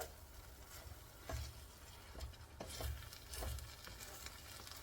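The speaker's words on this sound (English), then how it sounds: "Now I'm just going to stir this, because this is getting brown, especially in the middle." A spoon stirs corn frying in a pan for Southern fried corn, giving soft scraping strokes every second or so over a faint, steady sizzle, quiet and close with no voices.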